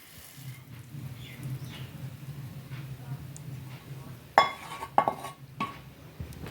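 A hot sweet mixture is poured into a greased metal dish, giving a soft scraping and dribbling under faint background hum, followed by a few sharp metallic clinks of a spoon against the pan.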